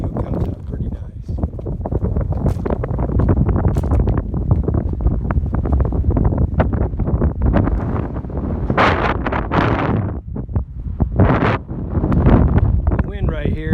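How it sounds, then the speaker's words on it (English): Strong gusty wind at Moab, blowing around 20 to 25 miles an hour, buffets the microphone with loud, continuous roaring rumble that swells and dips throughout. "The wind right here is blowing probably 20, 25 miles an hour, maybe a little bit more."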